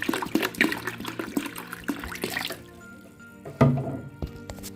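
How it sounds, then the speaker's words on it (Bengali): Filtered water poured over washed rice and dal to soak, a steady splashing trickle into the bowl that stops midway, then a brief slosh and dripping, close by. "এবার ফিল্টারের জল দিয়ে ভিজিয়ে রাখছি।"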